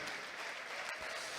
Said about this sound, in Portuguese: vamos aplaudir ao Senhor Jesus e a sua palavra